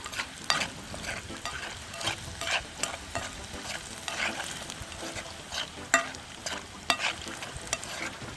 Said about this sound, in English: Make it fry a little but not too crisp, guys.